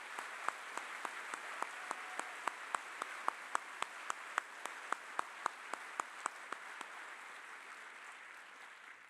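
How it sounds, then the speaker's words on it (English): Applause from the graduation audience at a basic academy class ceremony, with faint, spread-out crowd clapping and distinct close claps in a regular rhythm, gradually thinning toward the end. "Let's give them a hand."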